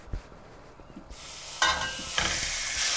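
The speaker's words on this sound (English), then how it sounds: "we're going to add some oil to a pan, and then we are going to add our beef to the pan" Ground beef hits hot oil in a pan, a quiet few taps giving way to a sudden loud, bright sizzle that keeps building.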